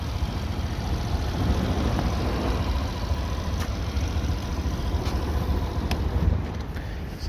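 A Suzuki Burgman Street 125 scooter engine idles steadily with a low, continuous rumble and some wind buffeting, with no talking.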